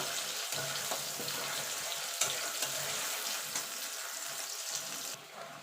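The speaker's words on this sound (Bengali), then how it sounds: "এবার পেঁয়াজটা মিনিট খানিক একটুখানি নাড়াচাড়া করে নেব।" Onions sizzle steadily in a hot pan while being stirred, a dense close frying hiss broken by occasional scrapes and clicks of the spatula, with no talking.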